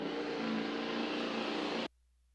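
A truck engine roars at steady, loud revs during a tractor pull pass at the Racine County Fair, a broad sustained drone that cuts off abruptly near the end.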